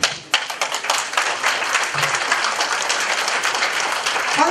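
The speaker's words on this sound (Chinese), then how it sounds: "我大家给掌声鼓励。" Sustained audience applause fills a hall at the opening ceremony of a home in Tainan, dense and steady throughout with many hands clapping at once, loud and close.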